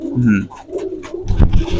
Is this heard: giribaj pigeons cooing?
yes